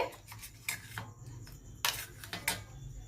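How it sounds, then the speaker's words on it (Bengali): A metal lid comes off a pot of steamed hilsa (ilish bhapa): faint, close clinks and scrapes of metal on metal in a few short, uneven taps. "ঠান্ডা হয়ে গেছে ঢাকনা খুলছি"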